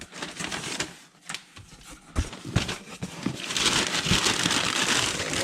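A Casio G-Shock MT-G watch box is cut open up close, with scattered sharp clicks and tapping giving way to steady crinkling and rustling of cardboard and packing.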